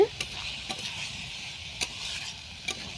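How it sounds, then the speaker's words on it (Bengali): Cabbage and potatoes fry with spices in a pan, giving a soft, continuous sizzle broken by a few sharp scrapes and clinks as a utensil stirs them, faint and close. "এইভাবে নাড়তে হবে, ঢাকনা চাপা দিয়ে"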